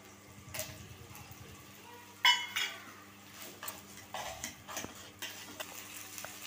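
Carrots and beans stirred in a frying pan for egg fried rice, with a spoon clanking and scraping against the metal over a soft sizzle, close and intermittent.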